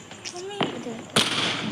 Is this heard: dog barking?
no